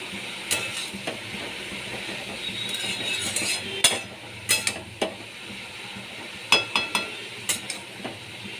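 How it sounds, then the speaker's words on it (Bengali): Cabbage with turmeric and salt is stirred and sautéed in a pan, giving a steady low sizzle with scattered sharp clinks and scrapes of a spoon against the metal, close and alone without talk. "এবার আমি ভালো করে কষিয়ে নিচ্ছি"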